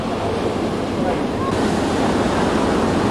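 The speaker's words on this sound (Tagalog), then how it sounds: "galit pa rin ang karagatan sa Naik, Cavite dahil sa nagdaang bagyo at habagat" Rough sea after a typhoon and monsoon rains at the coast of Naik, Cavite, with surf roaring as a dense, continuous wash, loud and steady and mixed with wind buffeting the microphone.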